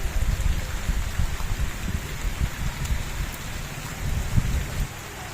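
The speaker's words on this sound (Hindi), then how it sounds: "अब फिर बारिश शुरू हो गई है।" Rain falls steadily on a flooded village street, a close, dense patter with low rumbling gusts and drops striking surfaces, without talk.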